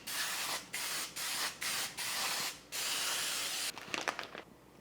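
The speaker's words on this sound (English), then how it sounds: "I'm gonna go ahead and spray this with some Pam" Pam cooking spray hisses onto a foil-lined baking pan in a series of bursts, five or six loud near sprays separated by short gaps, followed by a few faint rattles and taps.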